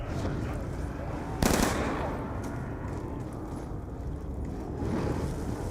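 MTAR assault rifle fire in the Nuketown Zombies video game, a dense, continuous stream of rapid shots that stays loud throughout, with a sharper burst near the start.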